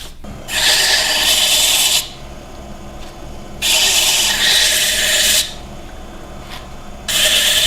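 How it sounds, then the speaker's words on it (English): A wooden kendama is sanded on a woodturning lathe, stepping through grits, with three long, loud rasping passes separated by quieter gaps of machine hum. "I'm going to go ahead and sand it up, go through a couple of grits real quick"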